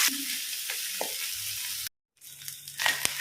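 Fish roe coated in masala fries in a pan, with a steady close sizzle and a few stirring scrapes, briefly cut to silence before the frying resumes.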